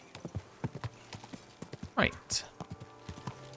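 Horse hooves clip-clopping at a steady riding gait in the game Kingdom Come: Deliverance II, close and rhythmic, with a whinny-like call in the middle and a brief spoken word over it.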